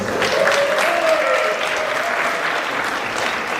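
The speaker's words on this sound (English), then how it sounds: "Give that a round of applause." A large audience at an evening Trinidad and Tobago independence celebration in the People's House breaks into loud, full applause that stays dense and steady, easing slightly toward the end.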